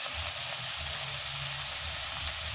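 Steady sizzling of aromatics being sautéed in a pan for ginisang monggo with dilis, a continuous crackling frying hiss with light stirring scrapes, close and even throughout, no voices.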